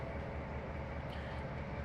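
Log train passing in the Trainz Simulator video game on Xbox, a steady low rumble and rolling wagon drone, faint and continuous without speech.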